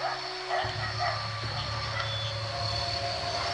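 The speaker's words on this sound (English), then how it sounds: "while the dogs were barking" Dogs bark and yip at a distance during a nighttime ghost hunt at a family tomb site, intermittent, under a steady low drone.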